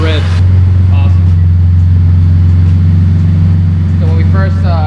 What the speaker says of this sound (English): We'll let her warm up for a second, give her a couple revs.